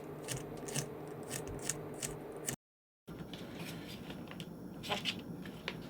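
A knife slicing jalapeno peppers and scraping out their seeds on a cutting board, a series of close, crisp cutting and scraping strokes, briefly interrupted by a gap of silence.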